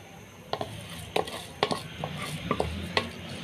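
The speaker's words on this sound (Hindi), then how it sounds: "अब मैं इसमें डाल दूंगी चावल" Dry rice grains poured into a cooking pot of grated carrots, giving a handful of light rattling clinks and scrapes spread over a few seconds, close and fairly quiet with faint kitchen background.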